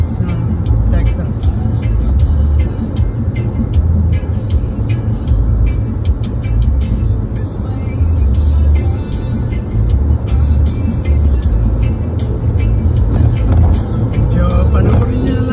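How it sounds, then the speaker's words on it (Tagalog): Steady highway traffic on Route 288 in Lake Jackson, Texas, with cars and heavier vehicles rumbling past continuously at close range, a loud, unbroken low roar throughout. "This is the highway, 288 highway of Lake Jackson, Texas."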